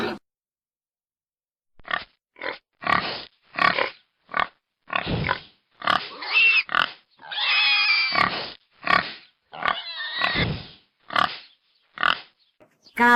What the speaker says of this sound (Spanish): Cerdo.